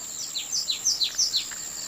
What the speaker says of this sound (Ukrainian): Так, на спів пташок.